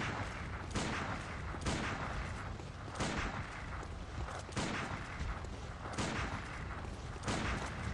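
Gunfire in the video game BloodDEAD comes as a regular series of loud, punchy shots, roughly one every second or so, over a continuous noisy game background with no talk.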